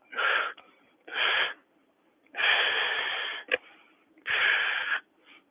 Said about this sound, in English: I'm just going to move to my normal breath of fire exhales